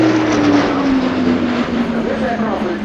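Airbus A400M turboprop transport powering up during a flying display, a loud steady engine drone with a strong tonal hum that slowly bends downward in pitch, carried over by a commentator talking throughout.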